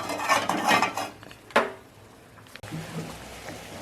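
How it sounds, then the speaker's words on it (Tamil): A metal utensil clinks and scrapes against a cooking pan while thokku is tempered in a home kitchen: a cluster of quick clatters, one sharp knock, then a softer rattle, close and with no speech. "தொக்கு தாளிக்க போகிறேன்."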